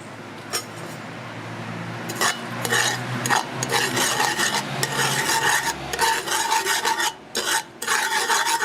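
A dry spoon stirs sugar heating in a pot for Trinidadian pork pelau, making a continuous gritty scraping and rasping as the grains are turned, with a faint sizzle beneath and brief pauses near the end.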